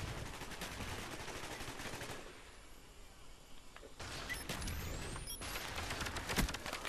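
Bursts of FAMAS rifle fire in the Call of Duty Black Ops video game, dense rapid shots that pause briefly mid-clip and then resume loudly.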